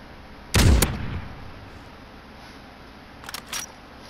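Gunfire in Call of Duty: Modern Warfare comes as a loud close burst of sharp shots, then after a pause a few quicker, fainter cracks, with no talk.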